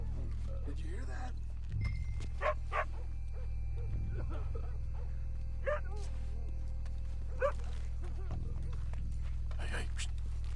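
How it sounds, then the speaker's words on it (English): A dog in the Red Dead Redemption 2 game barks and yips in short repeated bursts over a steady low hum, fairly close, with someone speaking briefly. "Stupid mutt. Get out of here."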